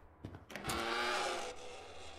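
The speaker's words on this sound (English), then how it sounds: "Oh, that door sound is not good." A door in the horror game The Classrooms gives a sustained, loud grinding creak that swells after a few short knocks, holds for about a second, then fades into a low hum.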